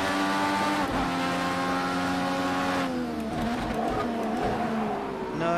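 An IndyCar in Project Cars 2 at Long Beach races at high revs, a loud sustained engine whine that shifts pitch as it brakes and downshifts into a corner, with tire squeal layered over the continuous close roar.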